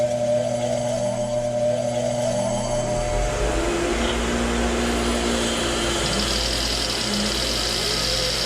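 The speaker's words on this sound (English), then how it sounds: "I'm going to take it on the bench grinder, a little wire wheel here" A small gear held against a spinning wire wheel on a bench grinder gives a continuous loud whirring motor drone with a brighter rasp joining partway through, steady throughout.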